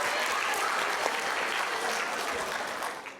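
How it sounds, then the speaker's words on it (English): Students applaud at a live high school podcast recording, a dense, steady wash of clapping from a sizeable crowd that holds for about three seconds and thins slightly at the end. "Give yourselves a round of applause, guys."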